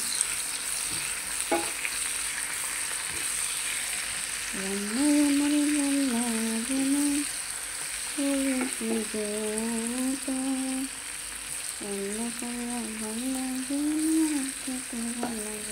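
Potatoes fry in hot oil with a steady, close sizzle while they are stirred now and then. A tonal humming voice rises and falls over the frying in several bursts.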